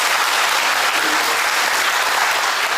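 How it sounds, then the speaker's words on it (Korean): A church congregation claps steadily at a retirement service for a denominational leader, dense even applause from a large crowd with no pauses. "박수 한번 하시겠 감사합니다."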